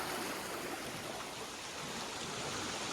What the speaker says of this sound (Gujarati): બાકી ફૂલ પાણી આવે છે કેનાલનું